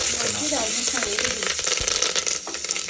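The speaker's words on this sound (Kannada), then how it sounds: "ಗೋಡಂಬಿ, ಆಮೇಲೆ ಏಲಕ್ಕಿ, ಆಮೇಲೆ ಲವಂಗ, ಇದಿಷ್ಟು ಹಾಕಿ ಫ್ರೈ ಮಾಡಿಕೊಳ್ಳಿ" Cashews, cardamom and cloves fry in a pan for jeera rice, a steady bright sizzle with small clinks and stirring rattles, close and loud throughout.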